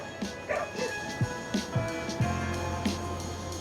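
Dogs scuffle and bark in a short, rapid run of yips, growls and whimpering barks, fairly close and lively over a low street hum, with a voice briefly heard.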